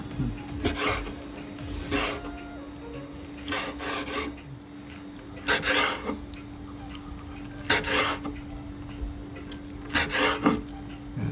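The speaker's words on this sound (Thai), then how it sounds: "ต่อไปเราจะหั่นเครื่องในที่เราต้มซุกแล้วนะเจ้า" A knife slices thinly through boiled pork offal, including stomach, on a board for northern Thai larb, giving a series of short, rasping strokes at a steady rhythm, roughly one every second or two, close and fairly quiet.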